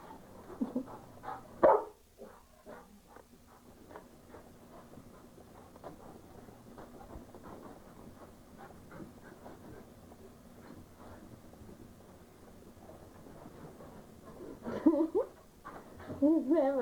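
An indoor dog pants rhythmically throughout, letting out a sharp bark burst near the start and another cluster of barks toward the end, with occasional voices in the room.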